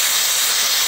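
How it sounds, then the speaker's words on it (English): A handheld steam cleaner hisses steadily on the nubuck top of a sneaker's tongue, a loud, close, continuous rush of steam with no talk. "What I found works is hit it with the steam first."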